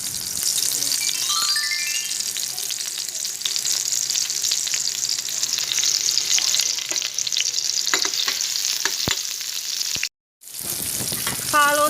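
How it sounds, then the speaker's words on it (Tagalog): Minced garlic sizzles steadily in hot oil for a Filipino ginisang ampalaya, a loud continuous frying hiss with occasional stirring clicks, broken by a brief silent gap near the end before the sizzle resumes. "Saute the minced garlic."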